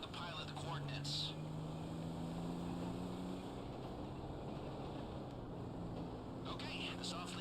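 A helicopter in GTA Online makes a steady mechanical drone with a low rotor hum that holds throughout. Faint game sounds and brief voices come and go in the background.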